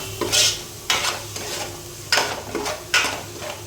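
Masala spice paste frying in a pot while being stirred, bursts of sizzling and scraping at regular intervals over a low steady hiss, close with no talk.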